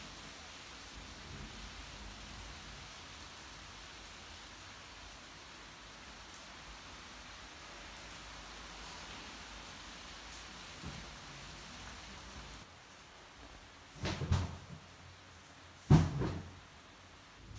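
Rain falls steadily on a rainy day, a soft even hiss throughout, broken near the end by a couple of louder knocks or thumps.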